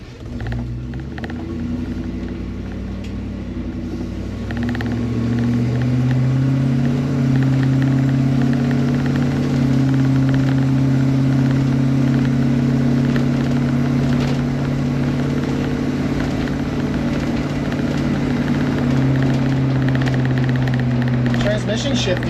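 A Range Rover Classic overland rig drives along, its engine droning loudly with a tone that climbs and then holds steady as the transmission shifts, over constant road rumble.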